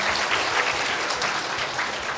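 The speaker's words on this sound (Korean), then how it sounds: "격려의 박수로 맞이했습니다." A room full of people giving a warm round of applause in a church gathering, a dense, loud and steady clapping that continues throughout.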